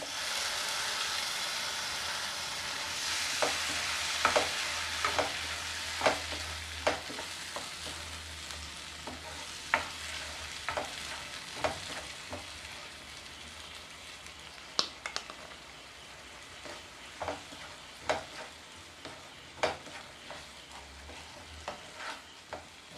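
A steady frying hiss from tomato paste cooking in a pan for chana masala, with repeated sharp scraping clicks of a spoon stirring, irregular and close, no voices.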